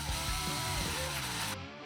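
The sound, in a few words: power drill with 3/8 bit drilling hole in wood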